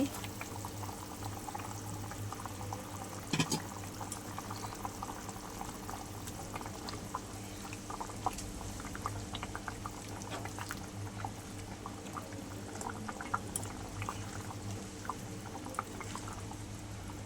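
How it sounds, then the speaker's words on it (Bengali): A pot of tilapia fish curry boils at a steady, soft bubbling simmer, close and fairly quiet, with a brief clink near the start and no clear talking. "আমার ঝোল ফুটে একদম রেডি হয়ে গেছে"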